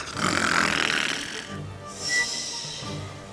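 Several voices imitate snoring together, a drawn-out rasping snore followed by a softer second one, fairly close.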